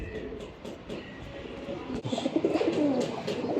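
Giribaz colouring pigeons coo in a loose flock, soft repeated calls overlapping with a busy background of other birds and low ambient noise, growing a bit louder and denser toward the end.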